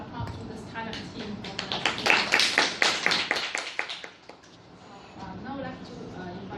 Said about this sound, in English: Let's give applause to this kind of team.